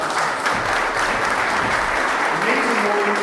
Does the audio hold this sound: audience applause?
yes